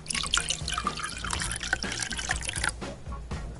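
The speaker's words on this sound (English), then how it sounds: "Pour in 20 milliliters of sugar syrup." Sugar syrup is poured into a long glass holding four lime wedges while a mojito is made, giving a short run of light liquid trickling and dripping that is close and fairly quiet.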